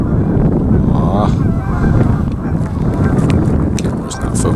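Flock of geese honking during a winter bird count in Lethbridge, loud overlapping calls filling the air against a dense, noisy background.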